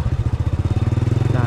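A dirt-bike-tyred motorcycle engine chugs in a steady, fast pulsing rhythm while riding over muddy dirt, loud and close throughout.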